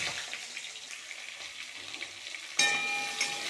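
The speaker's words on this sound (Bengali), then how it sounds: "এবার আমি এগুলোকে খুব ভালো মতো করে ভাজতে থাকবো যতক্ষণ না আলুগুলি লাল লাল হয়" Cut potatoes fry in hot oil with asafoetida and panch phoron, giving a steady close sizzle that turns abruptly louder and harsher near the end.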